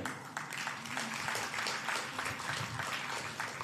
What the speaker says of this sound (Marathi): मला वाटतं आपण टाळ्या वाजवण्यात थोडंसं कंजूसही करतोय का?